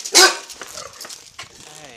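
An injured, scared dog gives a sharp bark-like yelp near the start, followed by softer whimpering sounds, with a person talking over it.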